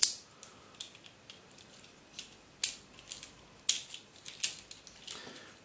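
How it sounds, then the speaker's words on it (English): A tower ball puzzle, its sections twisted by hand so the balls shift inside, gives a run of sharp plastic clicks and ratcheting snaps at irregular intervals, close and fairly quiet, with no talking. "you can turn different sections like that, and you can move the balls around as well"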